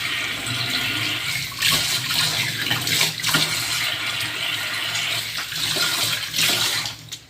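Running water rinsing acidic soap off, a steady rushing splash with gurgling surges, close and fairly loud, continuing throughout without talk.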